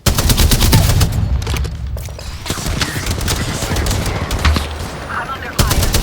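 Rapid automatic gunfire in the Apex Legends battle royale video game, loud continuous bursts of shots with sharp repeated cracks, a brief pause, then more firing near the end.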